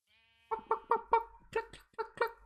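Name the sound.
sheep bleating in a video game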